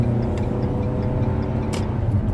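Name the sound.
car accelerating on the road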